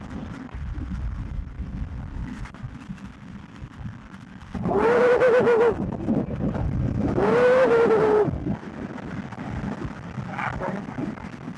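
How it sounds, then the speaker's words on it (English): Cars pass on a highway, heard from a moving vehicle. Steady road and wind rumble builds into two loud engine surges with rising whine as each pass happens close by. "Look at this passing cars, holy crazy."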